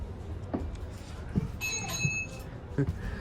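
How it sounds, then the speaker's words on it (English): A high electronic stop-request chime on a BD11 bus rings out over a low engine rumble, with faint thumps and rattles around it. "Still got that BD11 bell sound, I see."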